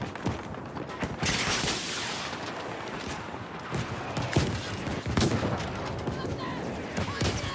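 Bombing and gunfire in the Fliegerfaust 5 video game, dense crackling bursts of shots with heavy thuds and booms scattered through, loud and close, with a voice talking underneath.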